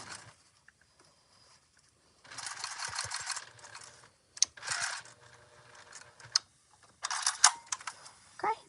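A sewing machine stitching a bag runs in three short bursts of rapid mechanical whirring and clatter, each lasting about a second, separated by quieter pauses with faint handling noise.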